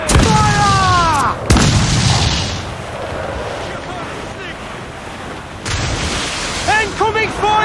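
Ship cannon fire in Assassin's Creed IV Black Flag, two sharp booming blasts over a steady wash of ocean waves and wind, with shouted voices before and after the shots.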